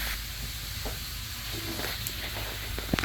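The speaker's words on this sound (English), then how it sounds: "It's really sizzling." Meat sizzles in a pan in a home kitchen while lasagna is being made, a steady soft hiss of frying that carries on throughout with faint clinks near the end.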